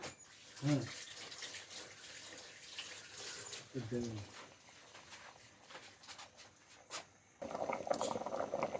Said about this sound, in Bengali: টকবগিয়ে ফুটছে মা মাছের সরিষা